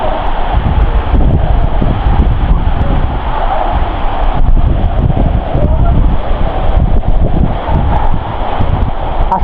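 Steady wind rushing at Agaya Gangai waterfall in the Kolli Hills, a continuous broadband roar with gusty swells, loud and close with no voices.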